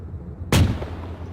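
A single loud gunshot from a ZA Badger armoured vehicle during training cracks sharply against a low engine-like hum, followed by a short decaying rumble.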